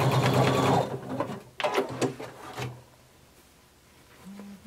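Short bursts of a sewing machine backstitching a romper seam come close and loud, stopping and restarting a few times before trailing off into quiet.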